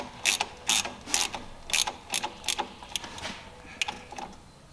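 Hose clamp being tightened with a ratchet on an S&B cold air intake for a second-generation Cummins diesel, giving a quick series of close, crisp clicking ratchet strokes that slow and soften toward the end.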